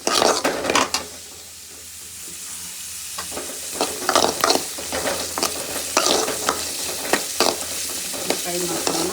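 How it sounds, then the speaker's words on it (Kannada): Onions and garlic fry in a pan for paneer butter masala, giving a steady sizzle broken by repeated clattering scrapes of a spoon stirring against the pan, close and fairly loud with no talking. "ಈರುಳ್ಳಿ ಫ್ರೈ ಮಾಡ್ಕೊಳ್ಳೋಣ."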